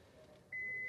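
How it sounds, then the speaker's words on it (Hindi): A 2021 Maruti Suzuki Swift VXi facelift in reverse gear, its rear parking sensor sounding a steady, unbroken electronic tone that starts partway through over a quiet cabin hum. "आप यहाँ पे बीप की साउंड सुन सकते हैं"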